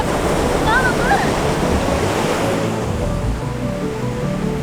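Ocean surf rolls onto the beach at Assateague State Park, a loud, continuous wash of breaking waves mixed with wind buffeting the microphone, with a few faint bird calls and voices in the distance.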